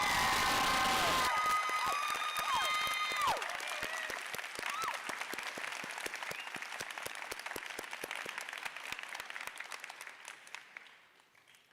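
A graduation ceremony audience gives a long round of applause for faculty and staff, opening with loud cheers and dense clapping that thins to scattered individual claps before fading out.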